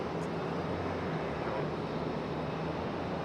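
A JetBlue jet airliner taxiing at Raleigh-Durham airport, a steady, fairly faint low engine rumble and hiss heard from a distance, continuous and even throughout with no talk.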